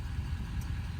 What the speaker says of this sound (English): gonna turn the truck off real quick so we can hear better